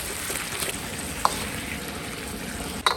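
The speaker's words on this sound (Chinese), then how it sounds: "所以還要再炒，再炒一下啊" Braised pork belly being stir-fried in a wok, a steady low frying sizzle running throughout, broken by a sharp spatula tap near the middle and another clatter near the end, with no talking.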